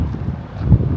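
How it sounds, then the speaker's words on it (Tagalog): Steady low rumbling wind at about 55 mph buffeting the microphone in open rolling grassland in southern Wyoming, loud and continuous for the whole second, with no voices. "Nagpagas kami and napakalakas ang hangin, 55 miles ang hangin."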